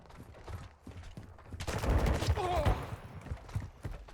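Magazine change in Call of Duty Modern Warfare team deathmatch: metallic clicks and clacks of a weapon reload sound amid ongoing gunfire bursts and battle noise, with a loud stretch of firing in the middle.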